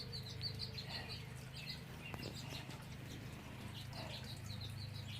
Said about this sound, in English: And some other birds, something just went caw,